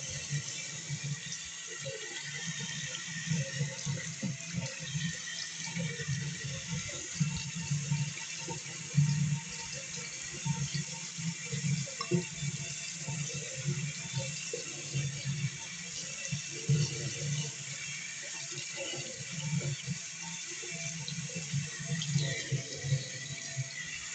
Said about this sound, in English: Let's just turn on the hot and the cold.